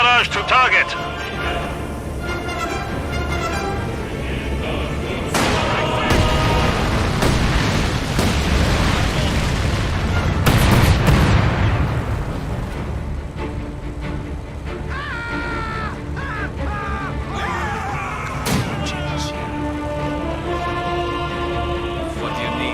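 Incendiary artillery barrage explosions in a video game arrive as rumbling booms and crackling bursts that swell into a loud blast roughly midway, layered with game music and effects, while voices talk throughout.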